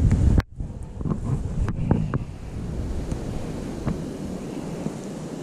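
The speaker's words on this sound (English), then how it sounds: "Wind blowing pretty hard." Strong wind roars steadily across an outdoor microphone, a broad continuous rushing with buffeting gusts and a few faint knocks and thumps, no voices.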